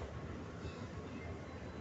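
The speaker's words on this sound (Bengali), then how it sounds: "মেট্রোটা চলে যাচ্ছে আবার, দেখা যায়" A metro train departing an underground station in Dubai rumbles low and steady at a distance, a faint continuous rolling of rail cars moving along the track.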